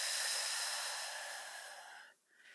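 A person lying on a release ball, arms out to a T, takes big deep breaths: one long, close, airy exhale that slowly fades, then a brief pause before the next breath begins.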